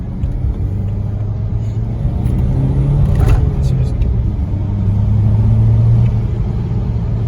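A BMW 320d E91 Pack M with a stage 2 diesel tune, about 240 hp and 550 Nm, accelerates with a steady, loud low engine rumble heard from inside the car, its pitch climbing slightly as it pulls.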